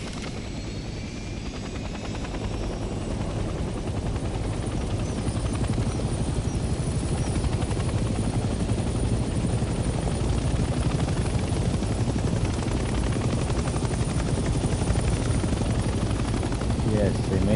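Helicopter flying in the World War II game Hell Let Loose, a steady loud rotor drone and engine roar throughout, with faint distant gunfire in the background.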